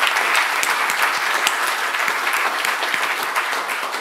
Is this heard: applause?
yes